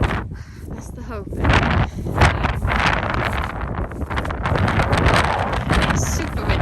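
Strong gusty wind buffets the microphone with a constant roaring rumble, loud and close throughout.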